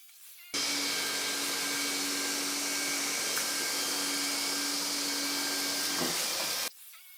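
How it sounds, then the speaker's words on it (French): A Dreame R10 cordless stick vacuum starts abruptly, runs at maximum suction with a loud, steady high-pitched whine and rushing hiss, then cuts off sharply. "Il s'agit d'un test effectué en puissance maximale de succion avec la même tête d'aspiration sur tous les aspirateurs"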